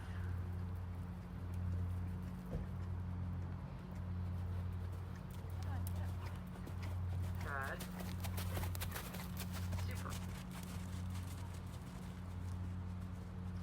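Horse cantering in an arena during a riding lesson, a steady rolling clip-clop of hooves repeating under a continuous low hum, with an instructor talking over it.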